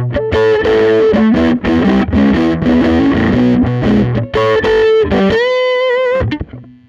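An electric guitar played through its neck pickup alone with heavy distortion and a warm tone strums a run of loud sustained chords and notes, then rings out and fades at the end.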